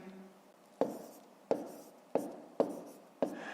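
Pen writing on paper while working a 5th-grade division problem: five crisp, close scratching strokes spaced roughly evenly, each with a short tail, over a quiet background with no talking.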